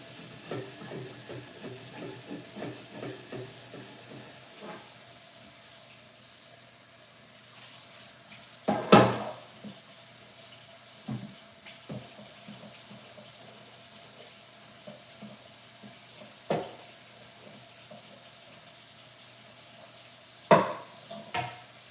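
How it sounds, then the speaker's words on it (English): Tap water runs steadily into a kitchen sink while a pan is scrubbed during steak-and-onion cooking, with a continuous rushing stream, faint scraping under it and a few sharp clunks and splashes. "Bring that out from under the water, take a closer look, see if I can scrub a little harder."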